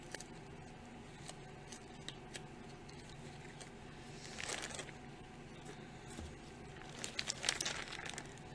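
A glove is pulled onto a hand, giving quiet crinkling and rustling bursts with a few soft ticks over a low, near-silent background.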